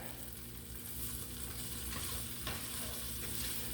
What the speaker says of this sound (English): You're gonna need to stir it around and let all the little pieces break up.